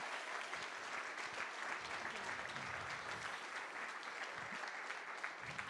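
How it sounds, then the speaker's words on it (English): Sustained audience applause at a UK coffee competition semi-final, a steady dense wash of clapping from a crowd, fairly distant and even throughout with no talk over it. "So big round of applause."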